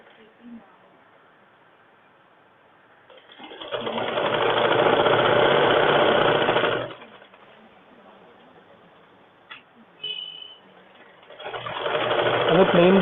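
A sewing machine stitches a lining blouse in two bursts of steady, fast rattling hum, close by, with quiet gaps between them. Faint sounds are heard in the pauses.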